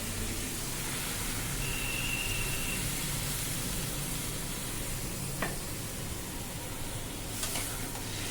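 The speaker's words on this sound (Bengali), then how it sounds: "এবার আমি জলটা দিয়ে দেবো।" Water poured into a pan of fish and pointed gourd curry, producing a steady loud hiss and sizzle that holds throughout, with a couple of brief clinks near the pan.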